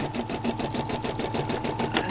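A Brother SE-400 embroidery machine stitching a pattern, a fast steady mechanical rattle and hum with a regular needle rhythm, close and continuous.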